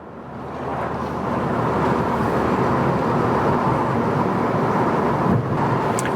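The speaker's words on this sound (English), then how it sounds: "you can still hear a bit of turbo whoosh, a bit of wastegate noise going on" Steady engine roar from a Mountune MP215 Ford Fiesta ST3 with a breathy turbo whoosh and wastegate noise running throughout, the sound building in the first second and then holding loud and even.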